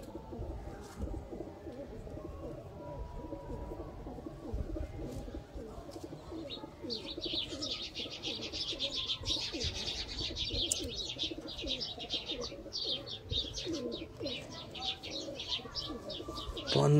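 Rampuri pigeons coo in soft, repeated throaty calls near the loft, mixed with chirps from other birds and a brief flutter, with light background noise and no clear speech.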